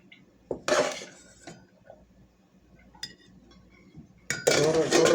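Dishes, pots and cutlery clink while rice is served at home, with two louder bursts of scraping and clattering near the start and end and quieter taps and clinks between.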